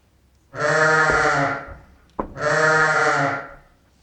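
A sheep in a stable gives two loud, close bleats, each lasting about a second with a brief pause between them, and no one speaks.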